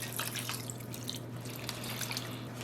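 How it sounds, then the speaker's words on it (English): Water runs from a tap into a container for yarn dyeing, a steady low trickle and splashing under a constant hum, fairly faint and unbroken. "fill up my container with water"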